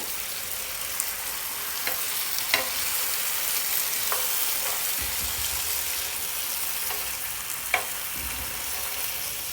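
Diced potatoes frying in a pan for a pepper fry, a steady soft sizzle with a few sharp clicks and stirring taps spread through it, close and even, with no voices.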